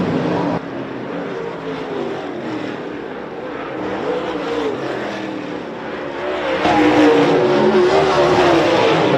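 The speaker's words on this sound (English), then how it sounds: "we got a car over the berm there, a late model" Late model race cars roar around Georgetown Speedway in a dense, continuous engine drone, swelling louder toward the end as cars come closer.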